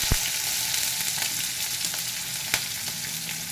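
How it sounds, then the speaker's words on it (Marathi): Cumin and mustard seeds, green chili and onion frying in hot oil in a home kitchen, a steady close sizzle with a couple of sharp pops and crackles, no voices. "तेल तापलेलं आहे त्याच्यामध्ये जिरे मोहरी घालत आहे त्याच्यानंतर ही मिरची घालते त्याच्यामध्ये कांदा घालते"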